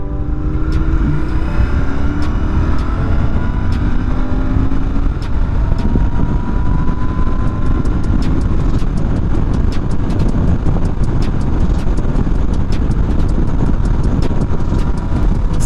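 A Royal Enfield Interceptor 650 motorcycle engine drones steadily under way at around 4,500 RPM, loud and close, with a shifting pitch and heavy rushing wind noise throughout.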